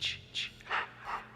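A voice imitates heavy, raspy breathing of a horror-movie slasher, four slow drawn breaths alternating in and out, close and fairly loud with no other sound.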